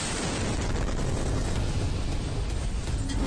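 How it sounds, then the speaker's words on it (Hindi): Explosion beside a footbridge in the Shevchenko area near Kyiv during an attack: a loud, sustained roar of blast rumble and debris noise filling the whole stretch without letup, no voices heard. "कीव के पास शेवचेंको इलाके का हमला देखिए जब एक फुट ओवर ब्रिज के पास धमाका होता है"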